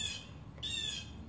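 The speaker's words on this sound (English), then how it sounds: "That's who's screaming. It's a blue jay." Blue jay in a backyard giving two harsh, loud squawks back to back, each a raspy scream, with no voices.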